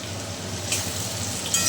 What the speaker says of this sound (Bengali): আমার আলুটা ভাজা হচ্ছে